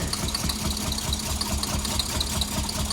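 A barn-find Mk1 VW Golf GTI with a fuelling fault runs unevenly, its engine idling with a rough, pulsing rhythm and irregular stumbles and rattles heard close up.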